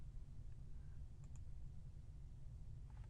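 A few faint, sharp computer mouse clicks sound while blank rows are deleted in a spreadsheet, isolated and quiet over a low steady room hum.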